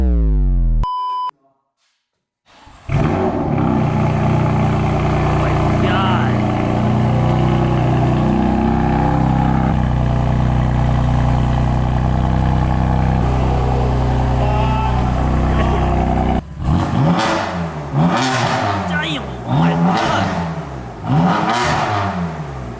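A BMW F80 M3 with catless VRSF downpipes starts up after a short beep and a pause, settling into a loud, rough idle. Several sharp revs near the end rise and fall quickly.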